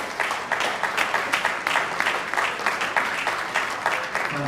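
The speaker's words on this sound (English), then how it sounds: "Another round of applause, please." An audience at an architects' forum gives a round of applause, many hands clapping in a steady, moderately loud wash with faint rhythmic pulses throughout.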